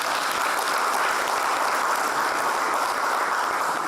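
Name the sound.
applause at a men's conference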